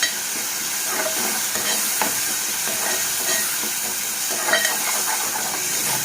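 Ginger garlic paste sizzles in hot oil for a capsicum egg curry, a continuous loud frying hiss with occasional stirring scrapes and small pops throughout.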